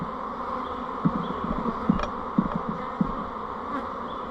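Honeybees buzzing loudly and continuously as they are shaken down from a hive frame with queen cells, a dense droning hum broken by a few dull knocks, no speech.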